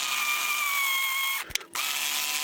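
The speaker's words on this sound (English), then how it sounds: "I'm going to fix that on by drilling and tapping" A drill tap cuts a thread into a laser-cut hole, giving a steady whirring tone that holds for over a second, then stops with brief clicks and knocks before faint room noise resumes.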